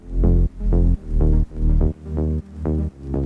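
A simple mid-bass synth patch built in Native Instruments Massive pulses in seven even, loud notes with short gaps, each with a bright attack that fades, playing alone.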